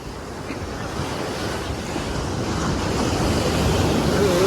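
Sea waves splash and wash up on a beach, a steady roaring surf that swells louder toward the end, mixed with wind rushing over the microphone, close and continuous.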